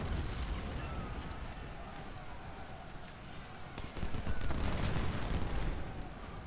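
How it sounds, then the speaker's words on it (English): Battlefield noise from the Ultimate General: Civil War game at Bull Run. A dense, continuous rumble of distant artillery and musket fire carries a few sharper cracks that grow louder toward the end. "Got artillery coming in hot down there"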